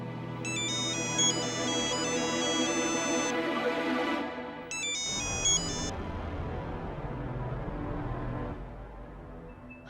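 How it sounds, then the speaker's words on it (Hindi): A phone ringtone plays a repeating electronic melody in two bursts, loud and close, against a steady indoor background with no talking. "फोन उठाओ बेटा।"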